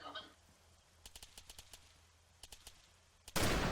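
Sharp gunshots from the video game Arma 3 crack in quick scattered bursts, several rapid shots then a short group, followed by a sudden loud noisy blast at the end.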